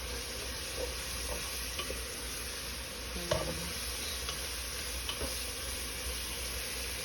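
80/20 ground beef for chili cooks in a pan with a steady close sizzle and faint scraping stirs, over a constant background hiss.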